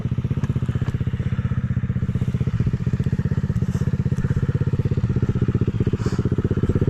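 A KAYO TSD 110 enduro dirt bike's small single-cylinder engine revs with a fast, rough, loud putter close by, rising and holding under throttle with thuds and clatter as it works through terrain.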